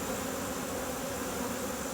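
Steady, dense buzzing of many honey bees at a hive during a pre-winter inspection, a continuous drone without pauses, fairly close and moderately quiet.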